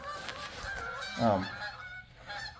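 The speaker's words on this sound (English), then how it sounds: "don't know if you can hear the geese flying south." Geese honk as a flock flies south overhead: a run of distinct calls that peaks in one loud honk near the middle, set against steady outdoor background noise.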